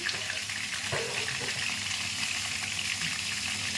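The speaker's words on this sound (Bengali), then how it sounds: "এবার তেলের মধ্যে আলু বেগুনটা দিয়ে দিয়েছি দিয়ে এবার নাড়াচাড়া করবো" Potatoes and eggplant fry in hot oil, giving a steady, loud, close sizzle while the pieces are stirred and turned, with occasional scrapes, no voices.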